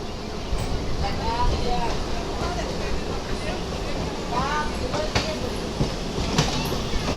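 Continuous rumble of a moving passenger train with rhythmic rattling and occasional squeals, voices talking faintly over it.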